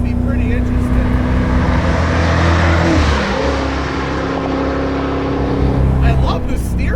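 A Ford Crown Victoria with a solid rear axle, prepped for track use, drives uphill over mid-corner bumps. Its engine drones loudly and steadily from inside the cabin under continuous road rumble while someone talks over it.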